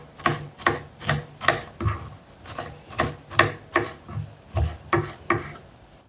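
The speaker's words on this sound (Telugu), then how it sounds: "ఇప్పుడు కొద్దిగా కొత్తిమీరను కూడా కట్ చేసుకుందాం." A knife chops coriander leaves on a board in about a dozen evenly spaced, crisp strokes with a brushing, scraping edge, close and alone.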